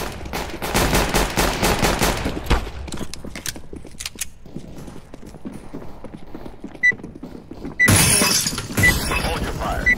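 Rapid automatic gunfire in Counter-Strike: Global Offensive, a long rattling burst of evenly spaced shots followed by scattered single rounds, breaking glass and another loud volley, with voice chat over the top.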